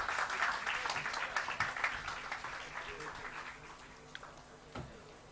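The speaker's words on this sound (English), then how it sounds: "you have a home team making it to the final, so round of applause" Audience applause for finalists at a technology quiz in Kolkata, a burst of dense clapping that thins out over a few seconds into scattered individual claps, with faint voices beneath.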